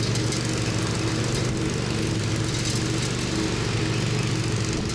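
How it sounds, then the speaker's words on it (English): A Husqvarna striping lawn mower engine runs at a steady, loud drone, close by and continuous with no talking. "that thing leaves awesome stripes. That's my best striping mower."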